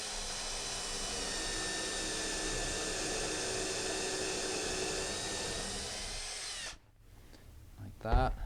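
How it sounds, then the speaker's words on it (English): A power drill runs continuously as it drives through a bathtub flange into a wall stud, with a loud, steady whine for several seconds before it cuts off, followed by faint handling sounds and a brief rattle. "And I'm just going to drill through it all at one shot."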